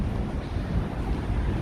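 Wind buffets a microphone outdoors on a street in Sakae, Nagoya, producing a continuous low rumbling roar with no speech.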